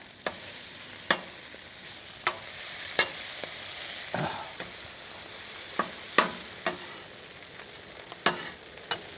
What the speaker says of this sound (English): Let's stir the beans. Heat up the bacon. Time to flip the hash browns.